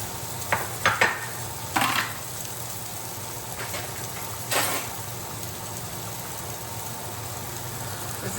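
Zucchini frying in a pan alongside a steak dinner, a soft continuous sizzle punctuated by a few brief utensil clinks and stirring scrapes near the start.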